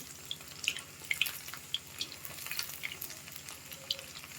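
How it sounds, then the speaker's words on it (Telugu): Street-style chicken 65 pieces deep-frying in hot oil give a close, steady crackling sizzle with scattered sharp pops throughout; no one speaks. "ఇవి మంచి కలర్ చేంజ్ అయ్యేంత వరకు ఇట్లా ఫ్రై చేసుకోండి"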